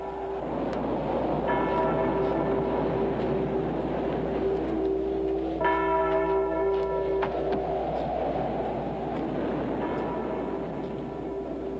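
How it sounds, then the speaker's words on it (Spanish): A church bell in an Old West town rings, tolling steadily and resonantly through a dense, constant rumbling din, with repeated metallic bell tones ringing out over the noise. "¡Callen esa maldita campana!"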